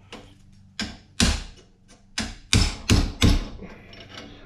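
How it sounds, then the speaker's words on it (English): A hammer strikes a chisel to wrap metal around a setter, giving six or seven sharp, ringing metallic blows at uneven intervals, close and loud with no talk. "I'm just gonna hit it with a chisel and wrap that around there like that."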